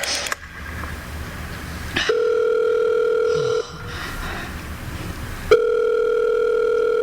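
A telephone handset sounds a steady, loud dial tone twice, each time after a click, with a quieter gap between them while calling the operator.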